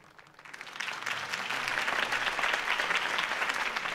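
A video game crowd breaks into applause that swells quickly and holds as dense, steady clapping, loud and close.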